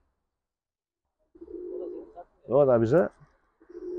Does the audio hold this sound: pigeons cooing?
yes